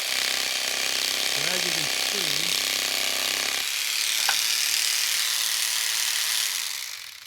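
A Dremel jig saw running at about half speed cuts plywood with a steady, buzzy, reciprocating whine that shifts pitch midway, while someone talks briefly over it.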